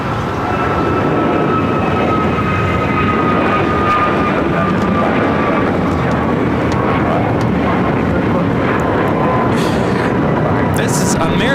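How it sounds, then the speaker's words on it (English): An American Airlines Airbus A321neo takes off from LAX bound for Washington Reagan National, its engines a loud, steady roar with a thin whine held throughout, while people talk over it. "This is American Airlines 591 taking off to Washington Reagan National on the A321neo"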